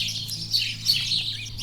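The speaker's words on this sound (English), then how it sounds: "The birds are so alive today and so loud, but I like it" Several birds sing loudly and continuously in a permaculture garden, with bright overlapping chirps and tweets over a low steady background hum.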